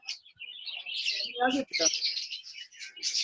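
Small birds chirp steadily in the background of an indoor lecture, a continuous bright twittering that runs the whole time while someone speaks over it.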